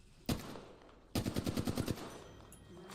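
Video game gunfire: a single sharp shot followed by a rapid automatic burst of about ten rounds, loud and close, with no talk over it.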